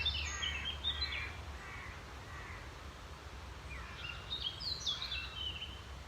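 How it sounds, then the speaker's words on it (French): Several crows caw at a distance around an outdoor bivouac camp, scattered calls on and off against steady low wind or background rumble. "Il y a beaucoup de corbeaux."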